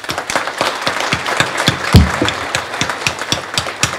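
Scattered, sparse clapping at a university alumni reunion gathering, with individual claps distinct and irregularly spaced, close and moderately loud, including one heavier thump midway; no speech.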